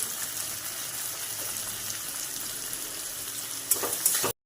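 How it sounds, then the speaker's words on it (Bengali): Onions frying in a pan at home, browning to a reddish colour, give a steady close sizzle that hisses on throughout, with a brief louder crackle near the end before it cuts off. "পেঁয়াজটা একটু লাল লাল করে ভাজা হয়ে গেছে"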